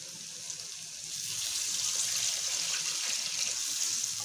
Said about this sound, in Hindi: तो हम लोग इसके अंदर पानी डालते हैं।